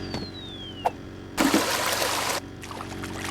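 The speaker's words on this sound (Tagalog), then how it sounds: "Ah, grabe nga tubig." Water gushing loudly in the drainage video game Drain Sim, a steady broadband rush that swells for about a second mid-clip before dropping back to a quieter flow.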